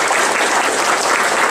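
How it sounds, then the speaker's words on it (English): Dense, steady applause from a crowd fills the room, loud and continuous throughout with no voices standing out. "let's give her a round of applause"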